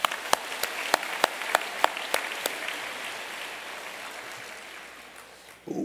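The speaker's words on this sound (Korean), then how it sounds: "우리 하나님께 영광의 박수 드립시다." A church congregation at a Korean fasting revival service claps together, a burst of sharp, roughly evenly spaced claps early on, then the sound thins into a soft, steady wash of room noise.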